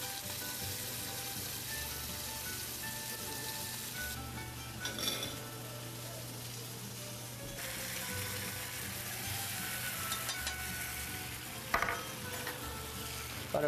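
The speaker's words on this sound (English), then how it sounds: "the cod is going into a frying pan" Cod sizzling and frying in a pan with a steady hiss, broken by occasional clinks of a utensil against the pan.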